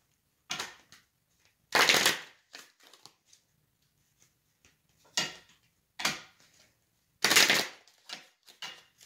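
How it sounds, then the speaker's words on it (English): Cards riffled and shuffled in several short bursts, close by, with quiet pauses and small taps between. "Give this another quick shuffle."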